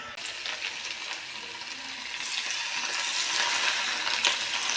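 Hot oil sizzles and crackles steadily, a dense hiss that grows slightly louder partway through, with no voices.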